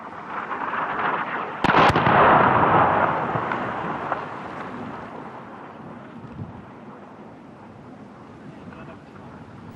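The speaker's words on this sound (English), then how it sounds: "I witnessed one of the regular airstrikes." A single heavy airstrike blast at a frontline position held against Islamic State, heard at a distance as one sudden boom that rolls into a long rumbling decay over steady wind noise.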